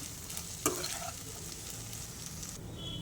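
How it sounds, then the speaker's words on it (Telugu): A cup of rice is stirred through gongura mixture in a hot pan, giving a continuous soft sizzle with one sharp spoon knock near the start and brushing stir sounds, close up. "ఇప్పుడు ఇందులో రైస్ని వేసుకుందామండి. 1 కప్ రైస్. ఇప్పుడు వీటన్నిటిని మిక్స్ చేసుకుందాము."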